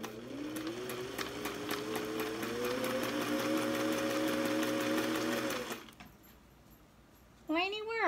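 A sewing machine stitches a small catch-all bag in a fast, even run that speeds up slightly for several seconds, then stops; a voice briefly follows in the quiet.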